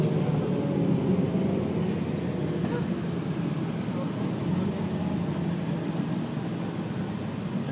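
A Novabus Classic CT Transit bus idles with its rear-mounted engine running, a constant low, rumbling drone that holds steady throughout while someone talks over it.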